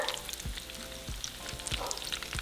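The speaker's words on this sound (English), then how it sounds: "we're just going to fry them until they turn into a beautiful golden color" Chicken rolled tacos frying in hot oil, giving a dense, bright crackling sizzle up close with a few soft low bumps as the pan shifts, heard alone for a few seconds.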